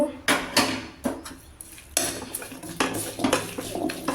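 A metal spoon scrapes and clatters against a vessel while lemon pulihora rice is mixed by hand, giving irregular loud knocks and scraping strokes close by.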